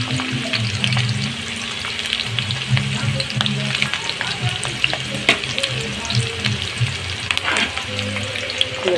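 Onions and green chilli sizzle loudly in a pan for chow mein, a dense close hiss with frequent crackles, pops and clatters of stirring.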